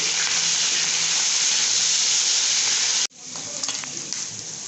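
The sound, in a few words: squid and prawn frying in splattering oil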